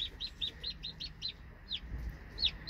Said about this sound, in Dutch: Het is een Brahma-kuiken.